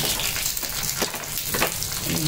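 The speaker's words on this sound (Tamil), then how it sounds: "I am going to put a little bit of water." Water poured into a hot pan while cooking Indian lemon rice: a steady, loud hissing sizzle with bubbling surges, no talk over it.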